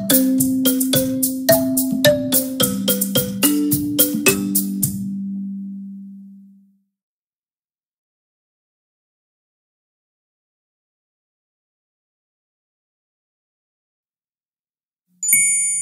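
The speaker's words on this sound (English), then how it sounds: "Thumb piano. The thumb piano is sometimes called a kalimba." A kalimba, or thumb piano, plucked with the thumbs in a short melodic run of ringing metallic notes lasting several seconds, the last tone decaying into silence, with a faint chime at the end.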